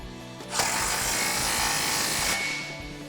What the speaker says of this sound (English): take your 15mm socket and tighten it down